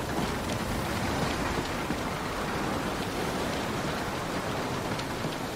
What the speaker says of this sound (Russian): просто залило все водой